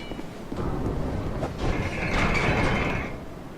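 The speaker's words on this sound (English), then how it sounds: "Well, there's the door locks." A heavy door locking shut in the dark fantasy game Dark Souls 2, a grinding metallic scrape and rumble building over a few seconds with a sustained clanking ring near the end, fairly loud against game ambience.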